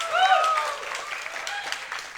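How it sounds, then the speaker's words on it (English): Audience applause at a hackathon closing ceremony for the winning teams: dense, sustained clapping from a crowd, fairly loud and steady throughout, with a few brief whistles or cheers near the start. "Can we have a big round of applause for them?"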